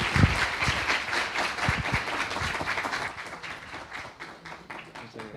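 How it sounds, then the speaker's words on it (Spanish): Audience applause greeting professor García at a Unisabana Ágora lecture, a dense burst of many hands clapping that stays steady and fairly near, thinning slightly toward the end. "Por favor, un aplauso para el profesor García."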